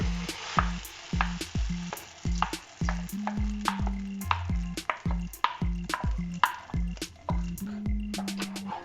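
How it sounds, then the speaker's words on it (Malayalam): Thick blended ripe banana batter for halwa plops and squelches in a hot pan with repeated rhythmic stirring knocks and bubbling, close up, no speech. "നമ്മൾ മിക്സിയിലിട്ട് അടിച്ചു വെച്ചിരിക്കുന്ന ഏത്തപ്പഴം ഒഴിച്ചു കൊടുക്കാം"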